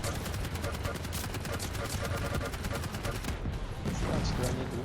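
Rapid, dense automatic gunfire in the arena shooter Quake Champions, a loud continuous burst of shots that rattles on for several seconds, with a voice talking over it.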